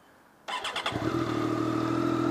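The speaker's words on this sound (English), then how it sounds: "Okay, you've got to start it with the clutch in." A Triumph Daytona 675R motorcycle engine starts with a quick crank and catches at once, settling into a steady, close idle with no talking.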